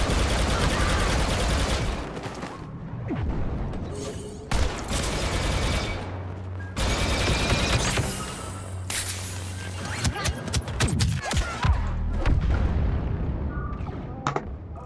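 Gunfire and explosions fill a Star Wars Battlefront II battle, with dense overlapping shots and heavy booms running almost continuously and a few sharp cracks standing out.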